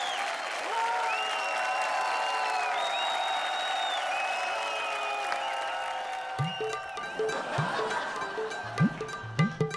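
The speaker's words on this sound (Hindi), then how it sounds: "जोरदार तालियां" Studio audience applause on a comedy show, steady clapping from a crowd blended with sustained music tones, then voices talking over the thinning claps toward the end.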